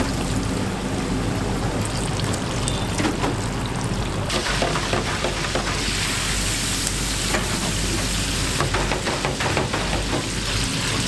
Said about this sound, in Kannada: ಸೋಸುವ ಪಾತ್ರೆಯಲ್ಲಿ ಮುಳುಗಿಸಿ ಅದನ್ನು ಎಣ್ಣೆಯಲ್ಲಿ ಬೇಯಿಸ್ತಾರೆ